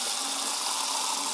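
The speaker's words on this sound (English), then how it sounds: "Now we just need to go fill these with water." Water gushes steadily from a tap into buckets being filled on a homestead, a close, continuous broadband rush with no pauses or talk.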